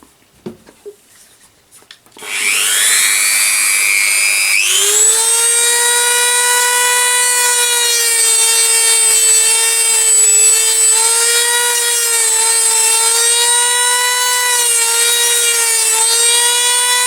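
Dremel rotary tool fitted with a thin cutting disc biting into a plastic Makita battery casing: after a few quiet knocks it spins up to a loud, steady high-pitched whine that dips slightly as it loads into the plastic.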